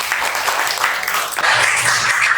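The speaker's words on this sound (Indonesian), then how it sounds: "Oke, tepuk tangan untuk Akti" A classroom of students clapping for a classmate, a dense, steady patter of many hands throughout, fairly loud and close, with no talking.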